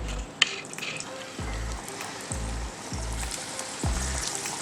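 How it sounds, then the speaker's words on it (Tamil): Chickpea masala vadai go into hot oil in a run of four or five soft thumps, each followed by a bubbling sizzle, with faint frying crackle underneath and no voices. "இப்போ வந்து நம்ம வந்து லைட்டாக தட்டி வடையை நம்ம சுட ஆரம்பிப்போம்."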